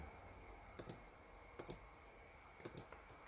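Computer mouse clicks while working in PowerPoint: three quick pairs of crisp, faint left-clicks spaced about a second apart, close to the microphone in an otherwise quiet room.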